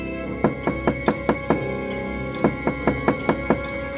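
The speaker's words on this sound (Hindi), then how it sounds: "वे दोनों उस मकान की ओर गए और दरवाजा खटखटाया।" Knocking on the door of a house during rain, two quick bursts of about five sharp raps each separated by a short pause, close and clear over a steady background hum.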